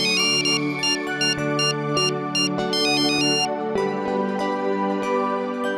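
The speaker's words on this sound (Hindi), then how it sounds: "मैं उनके पति मिस्टर अंबर शास्त्री को फोन लगाता हूं।" A phone ringtone plays a bright, repeating electronic melody, loud and close, with no voices.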